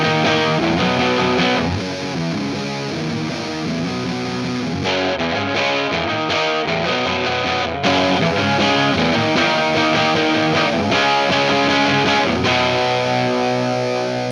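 Heavy distorted electric guitar through a Marshall amp simulator chugs loudly with a full, dense band mix, playing a steady riff that briefly drops out and returns.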